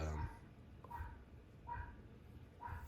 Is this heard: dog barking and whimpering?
yes